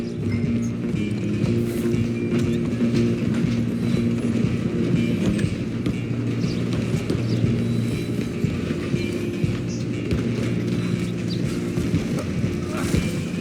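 Moving train in Red Dead Redemption 2, a steady rumbling clatter of wheels and machinery throughout, with a low droning hum and occasional knocks, under shouted voices.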